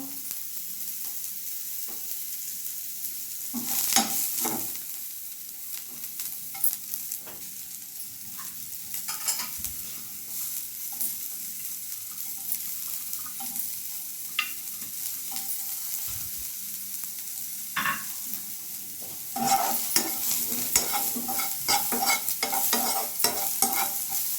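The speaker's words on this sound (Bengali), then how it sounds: "ভালো করে ফ্রাই করে নেব।" Onions sizzle steadily in oil in a pan while a utensil scrapes and stirs, with bursts of louder crackling and scraping at intervals.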